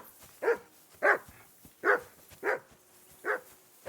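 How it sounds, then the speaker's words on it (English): A dog in the medieval video game Kingdom Come Deliverance 2 barks six times in a steady, evenly spaced series, with clear single woofs at moderate distance and no voices. "assume you can hear that damn dog of yours barking"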